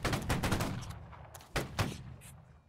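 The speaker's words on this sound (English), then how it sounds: "First rank, fire!" A ragged musket volley fired by the first rank of a line infantry formation in the Holdfast: Nations At War battle game, several close overlapping shots cracking in quick succession, then two more separate reports as the echoes fade.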